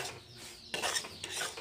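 Semolina (sooji) fries in refined oil in a pan with faint scraping and stirring noises. The sounds come in soft bursts, quiet and close, with no talk.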